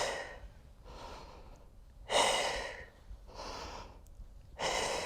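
Deep, rhythmic breaths during a yoga flow, each inhale and exhale a broad airy rush that swells and fades in a slow, even cycle, five or so breaths heard close and alone with no talk.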